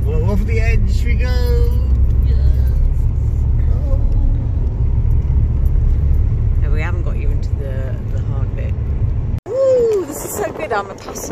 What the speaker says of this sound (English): is Ian's first time driving up the Hardknott Pass